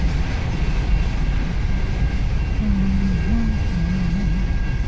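A long CN M383 freight train of boxcars creeping past slowly in Richmond, Michigan, a steady heavy rumble with a wavering low hum, close and continuous throughout.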